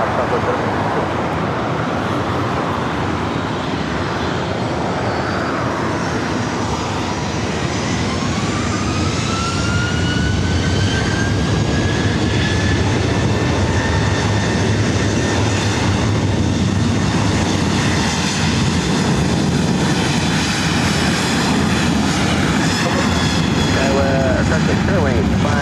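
Airliner jet engines spool and roar during takeoff at LAX airport, a loud, sustained broadband rumble with a rising whine, steady throughout and close by.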